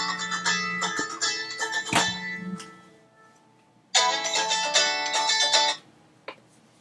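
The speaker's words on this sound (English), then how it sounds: "And of course you get interrupted with a phone." A work phone rings with a bright electronic ringtone in two loud bursts separated by a brief quiet gap, then a short final chirp, heard alone indoors.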